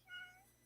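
A single short meow, high and faint, from a cat close by in a quiet room, with a soft low hum underneath.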